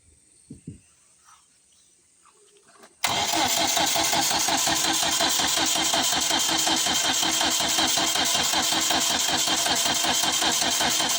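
A car engine cranks and catches suddenly after a few seconds of near silence and faint voices, then runs on at a loud, steady, evenly pulsing idle up close.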